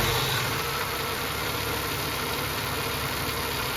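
Ford AU Falcon engine idling after hydraulic lifter tappet work, a steady, even, close-up hum with a faint mechanical tick underneath and no other sounds.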